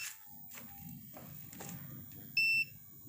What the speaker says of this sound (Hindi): तो दोस्तों ये लगातार बीप का आवाज़ दे रहा है, ये बता रहा है।